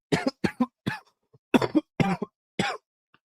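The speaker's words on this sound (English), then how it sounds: "sorry, I got a bad cough" A person coughs repeatedly in harsh, close bursts, several in quick succession, followed by a pause and a few more coughs.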